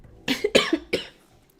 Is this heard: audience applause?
no